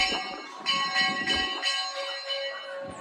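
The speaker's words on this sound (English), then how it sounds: "sorry if you hear the bells. This kid's playing bells." A child strikes a set of ringing bells at a railroad museum, producing a rhythmic run of bright, sustained metallic tones that overlap and decay between hits.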